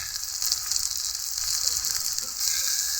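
Onion, green chili, tomato and spices sizzle and fry for an egg curry, a steady bright hiss with soft scraping and stirring touches throughout, close and continuous with no talk.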